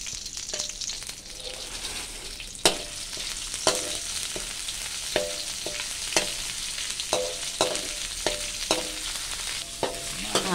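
Curry paste for a Thai chicken-offal kaphrao stir-fry sizzles steadily in a pan, with repeated sharp scrapes and clinks of a spatula stirring it at a loose, uneven rhythm, fairly close.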